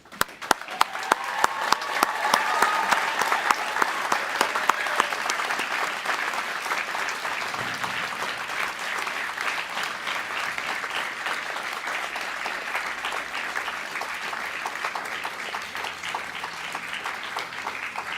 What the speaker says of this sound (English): join me in a round of applause for the graduating firefighters